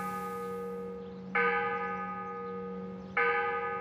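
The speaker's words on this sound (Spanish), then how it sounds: "Sonaron 5 campanadas en el reloj de la vieja torre de Ondara." Old clock tower bell in Ondara striking the hour, two resonant, ringing strokes in this stretch, each with a long humming decay and no voices.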